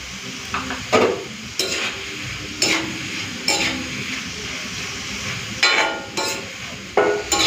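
Fine shredded potato fries in a pan with a pinch of turmeric, giving a steady close sizzle broken by repeated sharp scrapes and clanks of a spatula stirring against the pan, with no talking.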